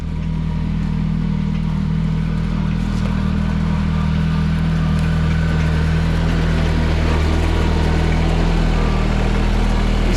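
A new compact tractor's engine runs at a steady, close, loud drone with a low, even hum and no notable revving or breaks.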